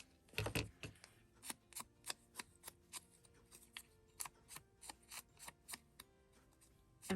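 Scissors snip through paper at a craft desk, a steady run of sharp, close cuts after one louder rustle at the start, continuing alone for several seconds.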